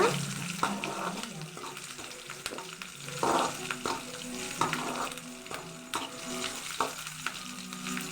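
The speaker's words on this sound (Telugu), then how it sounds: "చూడండి బాగా వేగుతున్నాయి" Spices crackling and frying in hot oil in a pan, with chilli powder added, a steady sizzle broken by sharp stirring clicks and scrapes of a spoon, close and fairly loud.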